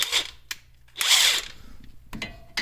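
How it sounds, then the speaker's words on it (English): Impact wrench spinning off 19mm strut nuts on a 2011 Toyota Yaris front strut: a short whir, then a louder sustained burst of rattling, followed by brief clicks and mechanical knocks, close up. "So just going to use the old impact and a wrench to wing these off, if I can."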